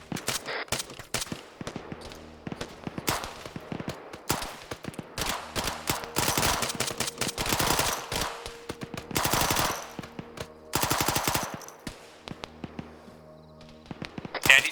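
An M249 light machine gun with 60-round magazines fires in a military shooter game, long loud sustained bursts broken by short pauses, close and dominant throughout.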